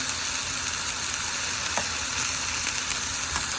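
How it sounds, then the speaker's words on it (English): Meatballs searing in a hot pan for albondigas soup, a dense, steady sizzle and crackle held close and loud throughout, with a couple of faint clicks. "We're not trying to cook the meatball. Just put a little sear on that outside right there."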